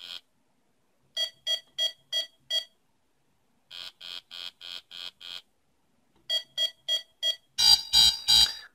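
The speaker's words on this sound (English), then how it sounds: "it gives me a little sound, tells me game over" A VEX IQ robot Simon game sounds groups of short electronic beeps in quick even bursts, a pause between each sequence, ending in a harsher, louder buzzy game-over tone.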